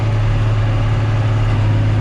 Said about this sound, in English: This is the tractor I want to run on the grain cart.